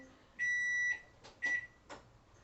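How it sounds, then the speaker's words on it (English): An oven timer beeps: one long electronic tone, then a shorter beep, close by and fairly quiet, with faint clatter between. "So my oven is beeping"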